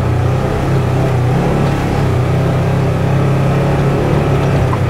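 A 2022 Polaris General XP 1000 Trailhead Edition on 30-inch Pro Armor tires climbs an off-road hill, its engine a loud, steady, close-up drone under load that holds without pause.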